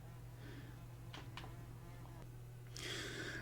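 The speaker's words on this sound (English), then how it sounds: "now we have a bee floating around" A bee drifts around a quiet room, its buzz faint and wavering in brief passes, then swelling nearer and louder toward the end over a low electrical hum.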